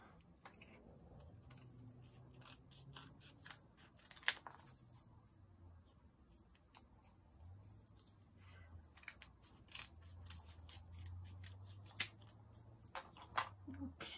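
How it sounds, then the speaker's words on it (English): Scissors snip through folded glitter paper during a nature craft session, giving faint, irregular clicks and cuts over a quiet, low background hum. "then we'll cut them out together, going through both bits of the folded glitter paper together."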